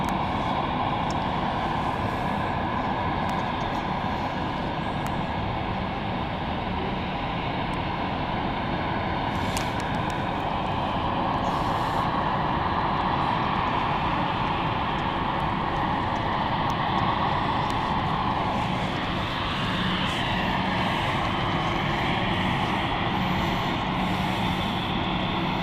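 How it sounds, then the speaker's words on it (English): Airliner arriving at London City Airport, a continuous broad roar of jet engine and rumble lasting throughout, fairly loud and steady at a distance, with no talk over it. "Just coming into view. There she is. It's an absolute beautiful aircraft."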